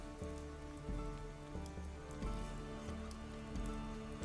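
Rain falls steadily as a faint ambient background for a tabletop role-play scene set in a pub, a soft continuous patter on a surface with a low, even hum underneath and no voices.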